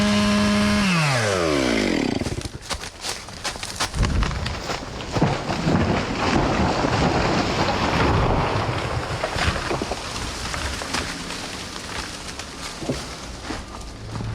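A chainsaw cutting timber outdoors, starting with an engine rev that drops in pitch, then loud continuous snarling and rasping as the chain bites through wood, with wind noise across the microphone.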